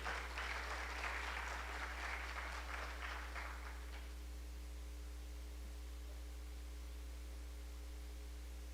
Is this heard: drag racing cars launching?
no